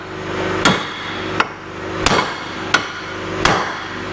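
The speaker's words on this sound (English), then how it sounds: "we're gonna take a few whacks at that ball joint and see if she's gonna come out on her own" Five sharp metallic hammer blows strike a lower ball joint on a Ford Crown Victoria Police Interceptor, evenly spaced over a steady background hum.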